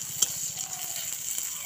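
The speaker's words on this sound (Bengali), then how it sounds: "খুব ভালো করে এটা নাড়িয়ে নেব।" Dried red chillies and panch phoron frying in oil in a pan, a steady close sizzle with the soft scraping of a spoon stirring through the spices, and a light tap against the pan near the start.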